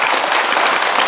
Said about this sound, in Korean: 그런 희망으로 우리 크게 박수 한번 보내주십시오